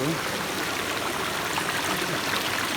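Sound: flowing stream water

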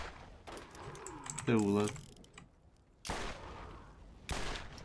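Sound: sniper rifle gunfire in the video game Borderlands

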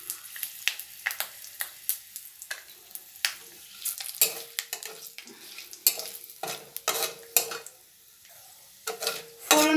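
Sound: bay leaf, dried chilli and asafoetida sizzling in hot oil

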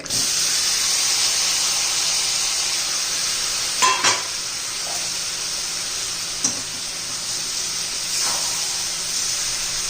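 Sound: raw banana slices being stirred and fried in a pan

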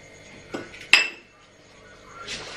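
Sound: pressure cooker being set up to boil potatoes

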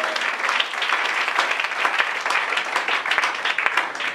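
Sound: congregation applauding in church

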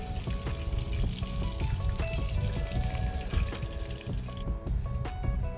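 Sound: tempering spices and chillies frying in oil

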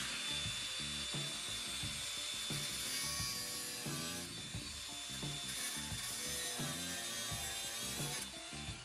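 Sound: hand saw cutting off bolt

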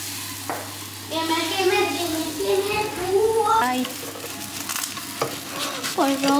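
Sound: pancake batter frying in a pan

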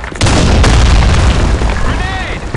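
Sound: grenade explosion

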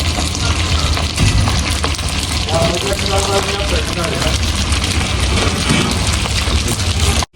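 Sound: food frying in oil

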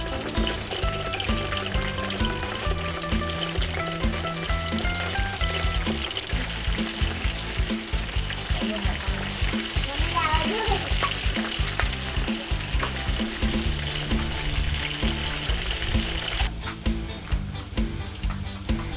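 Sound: pork pieces frying in oil while being stirred

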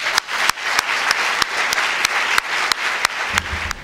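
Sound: conference audience applauding the Prime Minister

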